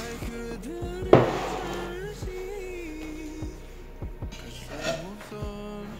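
Carrot cake batter being scraped and poured into a greased baking pan, with a clatter of utensil against metal, soft repeated scraping and tapping, and quiet speech in between.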